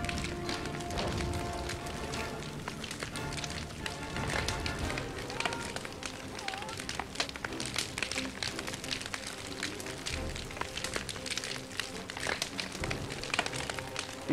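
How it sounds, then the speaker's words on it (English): In a Napoleonic-era battle video game, a fire crackles with dense, rapid pops and snaps, sustained and fairly quiet under a busy battlefield din. "You can just hear the crackle of the fire."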